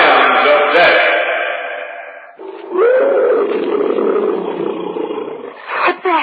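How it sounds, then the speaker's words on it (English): A tiger roars in the jungle as a radio drama effect, two long, loud, echoing growls filling the clip, with a voice briefly heard near the end. "Probably a tiger somewhere in the jungle."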